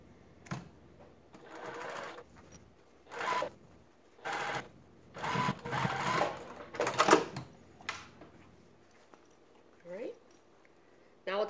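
A domestic sewing machine stitching a seam on a Martini Crossover bag runs in several short bursts of a few seconds each, fairly close, with quiet pauses between runs and a little faint talk.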